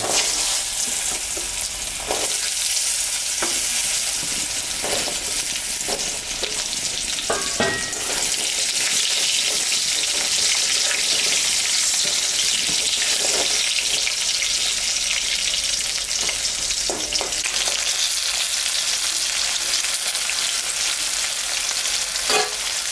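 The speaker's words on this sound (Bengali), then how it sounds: "আলুটা ভাজা ভাজা হয়ে গেছে" Cut potatoes fry loudly in hot oil with whole dried chillies, cumin and bay leaves, left from frying fish, giving a dense, continuous sizzle punctuated by scattered stirring scrapes.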